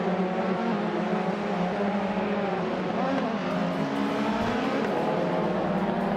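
Racing game engines, including a vintage 1993 Peugeot 405 on the grid at Baskerville, roar together in a dense, steady drone, with several pitches sweeping up and down as the cars accelerate off the line.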